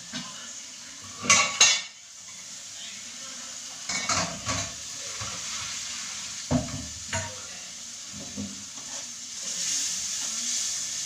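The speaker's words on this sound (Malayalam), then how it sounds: "നന്നായിട്ടൊന്ന് ഇളക്കി കൊടുക്കാം" A spoon clatters and scrapes against a pot while a mixture of second and third coconut milk is stirred for a home-made chicken biryani, with short metallic clinks in bursts separated by quieter gaps and no talk.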